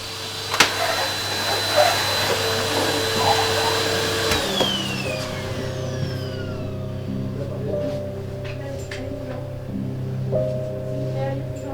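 A vacuum cleaner roars loudly up close, then winds down to a lower, steadier motor hum that keeps running to the end.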